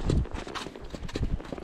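A mare ridden along a road, her hooves striking the surface in a quick clip-clop rhythm, close and fairly loud from a rider-mounted camera.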